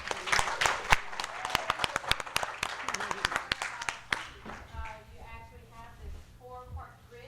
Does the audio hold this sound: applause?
yes